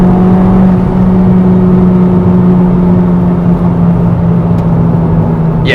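A modified Honda Civic Type R EP3 accelerates from inside the cabin, its turbocharged engine making a loud, sustained droning roar with a steady hum that holds for several seconds.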